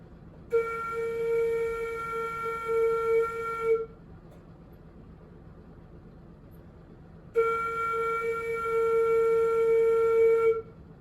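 A flute plays two long sustained whole notes on one pitch, each held about three seconds, separated by a clean rest of equal length in a beginner lesson exercise; the tone is close, steady and clear with no talking.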